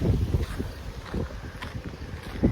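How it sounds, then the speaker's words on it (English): Gusty wind buffeting a microphone outdoors, producing steady low rumbling thumps and bursts throughout, fairly loud with no clear speech over it. "It's very windy, so if you can't really hear me"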